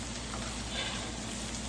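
Steady broadband sizzling of turkey ham frying in a hot pan, continuous and fairly soft, with no talking.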